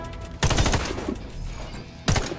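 Two loud, close gunshots ring out at target practice in the video game Warface, each a sharp blast with a short decaying tail, spaced well apart.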